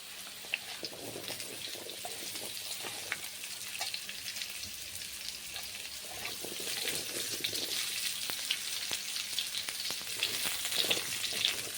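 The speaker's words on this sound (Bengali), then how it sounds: "দেখো রাঙালুটাও দেওয়ার পরে আমি আরও 2 মিনিট তেলের উপরে কষিয়ে নিয়েছি।" Cubed potato and sweet potato sauté in oil in a pan, producing a continuous hissing sizzle with occasional faint stirring taps, steady and close, growing slightly louder, no speech.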